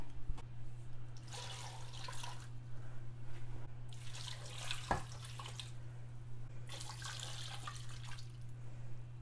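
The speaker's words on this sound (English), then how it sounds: "Now that we have our potatoes cut and in our pot, we need to add some water." Water runs in bursts into a cooking pot of cut potatoes, splashing steadily for a couple of seconds at a time with pauses between, over a constant low electrical hum.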